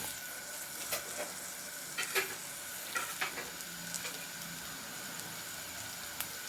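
Chili powder is mixed into a frying chicken curry base in a pan: a steady soft sizzle with a handful of sharp spoon scrapes and taps against the metal, close-up and quiet, no voices.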